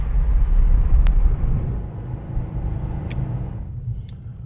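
A 1989 Porsche 911 (964) Carrera 4 coupe cruises on an open road, its engine and tyre roar a steady close rumble from inside the cabin, swelling early and then settling, with a couple of faint clicks and no talk.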